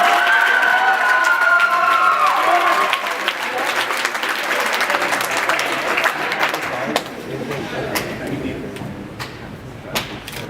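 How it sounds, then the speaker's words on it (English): An audience applauds the Lady Bulldogs team with loud, close clapping and some cheering. A high whistle-like tone sounds at the start, and the ovation gradually thins over about ten seconds. "let's have another big round of applause for the Lady Bulldogs"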